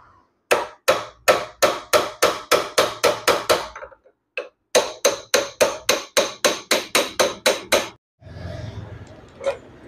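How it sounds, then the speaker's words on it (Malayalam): Metal hammer blows on an axle and chisel knock a Yamaha FZ motorcycle's front brake caliper loose, two rapid runs of about a dozen sharp, evenly spaced strikes each, close and loud, followed by a brief scraping rustle. "നമുക്ക് ഇങ്ങനെ ഒരു ആക്സിൽ അതുപോലെ ഒരു ചിറ്റിൽ ഉപയോഗിച്ച് ഇതിനെ അടിച്ച് പുറകിലേക്ക് ഇളക്കിയെടുക്കാം"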